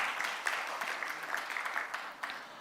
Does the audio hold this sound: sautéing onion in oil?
no